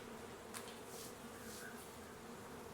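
Honey bees buzz steadily as hive frames are shaken, a faint continuous drone with a few brief higher swells and no voices.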